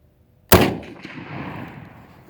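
A single sharp, loud shot from a Marlin 336 lever-action rifle in 30-30 cracks out, followed by a long rolling echo that fades outdoors.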